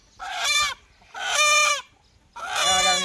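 Chickens at a poultry farm cluck and squawk in three loud, harmonic bursts with short pauses between them, close by and without talk.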